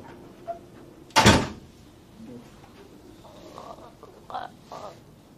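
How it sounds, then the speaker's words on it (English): An interior door shuts with one loud, sharp close-up thump, followed by quieter room noise and faint background sounds. "Close the door on your way out."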